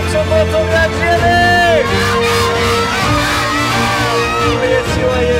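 A young crowd of children and teenagers shouts a word together loudly and repeatedly, the chant ringing out with whoops and cheers over a hum of background sound.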